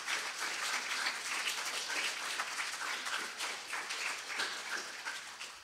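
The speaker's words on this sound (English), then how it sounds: "Boys, I think your teachers need a round of applause for all of the work they do." A school assembly audience claps steadily in a dense, continuous round of applause, sustained for several seconds with no voices over it.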